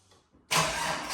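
A Holden VY Calais drift car with an L67 supercharged V6 swap cranks for a split second and fires up, bursting into a loud, close roar that holds steady.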